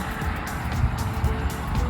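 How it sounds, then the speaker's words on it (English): Road traffic passes in front of lodging near Glacier National Park, a steady broadband rumble of cars with soft swells as vehicles go by, continuous and moderately loud throughout. "See the traffic?"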